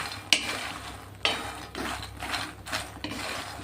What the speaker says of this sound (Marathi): त्याच्यामुळे आपल्याला मखाने फ्राय करून घ्यायचे.